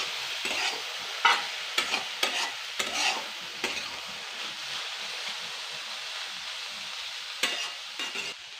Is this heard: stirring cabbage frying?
yes